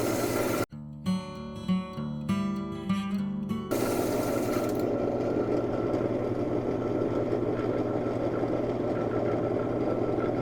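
A rock saw cutting a thin piece of fossilized coral by hand, a steady mechanical whine and grinding hum with rhythmic surges early on, then a continuous loud drone, no voices.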